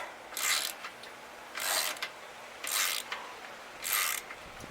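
A wrench tightens bolts on a Bike Berry 49cc four-stroke motorized bike, making four evenly spaced bursts of ratcheting, rasping clicks at close range with short pauses between them.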